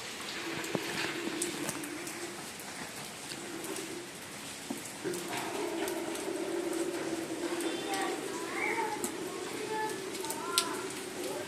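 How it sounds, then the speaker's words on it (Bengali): Steady rain falls outdoors as a soft, continuous hiss at low level, with occasional drips and faint bird calls in the background. "কি বৃষ্টি"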